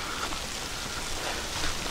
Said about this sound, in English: And it just started to drizzle again.